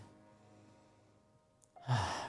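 A single audible exhale during a slow tai chi balance practice, a soft breathy sigh rising near the end after quiet near-silence, close and alone with no talk.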